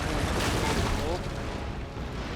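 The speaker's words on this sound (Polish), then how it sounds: "Artyleria przygotowuje się do," Dense, continuous rumbling booms roll together in a heavy artillery barrage in the video game Total War: Empire, loud and unbroken, with a faint voice underneath.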